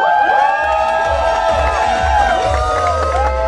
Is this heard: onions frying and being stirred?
no